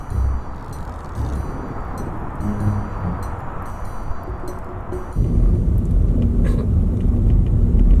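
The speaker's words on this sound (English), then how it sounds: "Take us away in your car." A car drives along with a low continuous engine and road rumble, calmer at first and then growing louder and rougher after a sudden step up partway through, with no voices.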